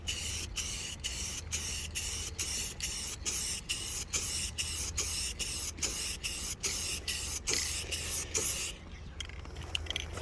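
Clear coat sprayed as a second coat over faded car paint, a steady airy hiss broken into a quick run of short regular bursts from the spray gun trigger, fairly close, before it stops near the end.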